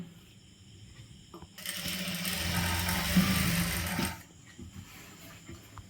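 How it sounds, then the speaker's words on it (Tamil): Sewing machine stitching along a folded hem on churidhar fabric, a steady mechanical whir running for a couple of seconds between quieter pauses, moderately close and alone. "ஃபஸ்ட்டு மிஷின் வச்சு ஒரு டேக்கை போட்டுக்கோங்க"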